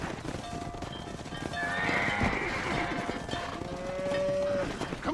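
A cattle herd mooing in the Red Dead Redemption video game, several drawn-out moos overlapping with horse neighs and clip-clopping hooves, fairly close and continuous without talk.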